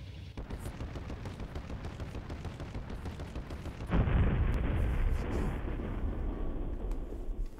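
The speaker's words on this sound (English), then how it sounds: "Pretty cool explosion." A fortress ship blows up in the video game CrossCode, a dense rumbling blast that breaks in suddenly midway and then roars on loudly over a steady busy game soundscape.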